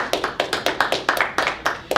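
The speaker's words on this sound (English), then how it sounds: "Let's give them a big round of applause." At an evening university electrical engineering robotics competition, an audience claps in sharp, distinct strikes at a quick, uneven rhythm, sounding like a small group close by.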